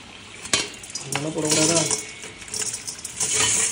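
Fried chicken kebab pieces tipped from a pan into a container, a quick rattling clatter of pieces and metal knocks, with a brief faint sizzle and a few bursts of clinking.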